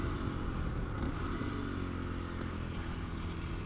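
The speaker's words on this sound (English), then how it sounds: "when you get it up at the top of the rev range right here. This one starts fuel cutting" A Kawasaki KLX230 Sherpa S single-cylinder motorcycle engine is held high near the top of its rev range, buzzing steadily and close, with a slightly choppy edge where it bumps the fuel cut.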